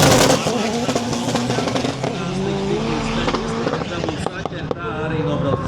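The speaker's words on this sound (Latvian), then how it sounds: "Katrā ziņā viena no skaļākajām automašīnām pavisam noteikti." A loud rally car at a motorsport qualifying event accelerates hard, its engine roaring and revving through rising gear pulls, close and dominant, with a voice talking over it.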